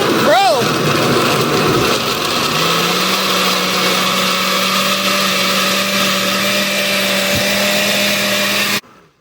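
A blender whirs loudly and steadily while blending a strawberry smoothie, preceded by a voice playfully imitating the motor with vroom sounds, then running alone for several seconds before cutting off abruptly.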